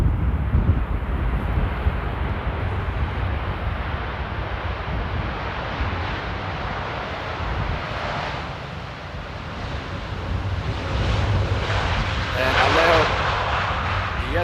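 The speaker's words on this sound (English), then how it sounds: "Oh, that was a little bit of a tippy landing." A Boeing 787-8 Dreamliner touching down at Amsterdam Airport, heard as a steady broad jet engine roar throughout with wind rumble, and people talking over it.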